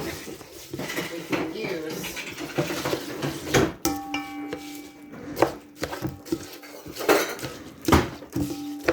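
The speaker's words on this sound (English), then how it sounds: "we can use a rubber spatula here to get them off the edges and get it inside the mixture" A rubber spatula scrapes around the edges of a mixing bowl of bird-feeder mixture, giving scraping and knocking strokes under a speaking voice.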